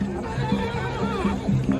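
A horse neighs amid a crowd's chatter at a Nihang Sikh horse-riding display during Vaisakhi in Talwandi Sabo, with rising and falling whinny tones repeating over steady background noise.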